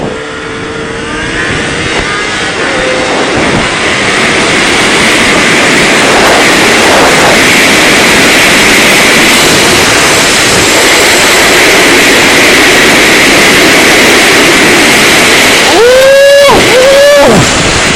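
Sport motorcycles, a BMW S1000RR, a Kawasaki Ninja H2 and a ZX14, accelerate hard from a first-gear roll with a loud, sustained roar of engines climbing through the revs, ending in quick rising upshift whines close by.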